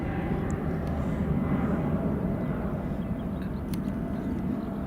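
An easyJet airliner takes off at Glasgow Airport, giving a continuous broad jet roar heard from a distance that holds steady throughout.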